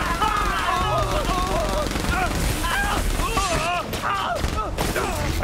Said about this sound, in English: Hold on, I'm shooting random shit.